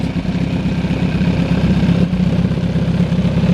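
A motorcycle with a race-fit Growler exhaust idles with a deep, throaty exhaust burble, steady and close, with no clear revving.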